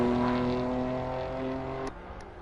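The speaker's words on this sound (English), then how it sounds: "The M4's got a beautiful sound to it, though." A BMW M4 engine in the Assetto Corsa racing game drones at a steady, smooth pitch close up, then cuts off abruptly, leaving a faint fading whir.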